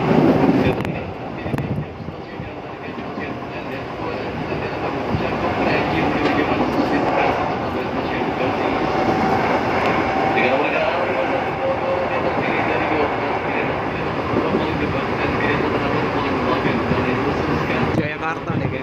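An INKA-built KRL commuter electric train of 14 cars rolls steadily along on a trip toward Lenteng Agung, a continuous loud rumble of wheels and cabin noise with a few brief shifts in tone.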